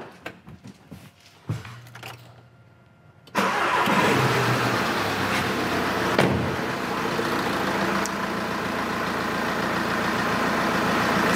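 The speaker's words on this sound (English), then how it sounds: "Now we start the vehicle." A car with a common-rail diesel engine and piezo injectors cranks briefly after a couple of quiet clicks, then catches and settles into a loud, steady idle that runs close by for several seconds.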